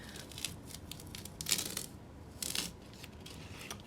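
Painter's tape peeled off painted old furniture, pulling up some of the original paint: a few short, faint tearing rips spaced apart in a quiet room.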